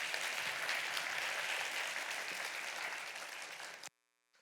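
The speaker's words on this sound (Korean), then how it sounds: "우리가 박수로 한번 환영하도록 하겠습니다" Steady, dense applause from a church congregation welcoming someone during a Sunday worship service, filling the room evenly and fading slightly before cutting off abruptly near the end.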